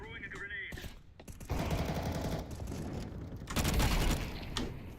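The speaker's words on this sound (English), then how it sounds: "Throwing a grenade." A grenade goes off in the Counter-Strike video game, landing as heavy broadband blasts amid bursts of rapid gunfire, with a brief voice heard near the start.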